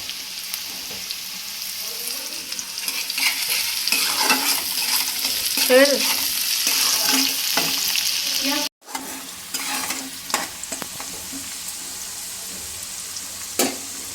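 Chopped onion fries in a pan with a continuous close sizzle and occasional stirring scrapes. The sound drops out for a moment partway through, then the frying carries on at the same level.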